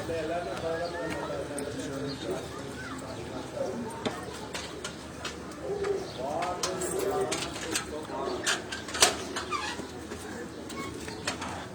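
Pigeons being fed on a rooftop coo softly beneath someone talking, with scattered wing flaps and pecking taps throughout.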